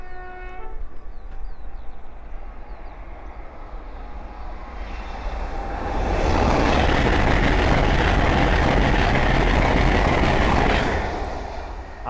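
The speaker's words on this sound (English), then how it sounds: "the next train to pass by is a Hull train 800 going from London King's Cross to Edinburgh Waverley" A Hull Trains class 800 running from London King's Cross to Edinburgh Waverley passes on the East Coast Main Line at Langford. A faint horn and distant rumble build into a loud, close, sustained roar and then begin to fade.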